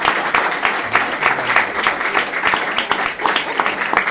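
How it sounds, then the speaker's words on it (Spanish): Warm, dense audience applause for a theatre director at a talk on Shakespeare in Buenos Aires, continuous clapping with fluctuating intensity and a faint murmur of voices underneath. "Yo lo recibiría con un fuerte aplauso."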